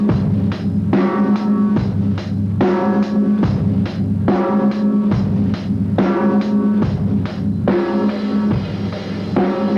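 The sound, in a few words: heavy hard rock drum groove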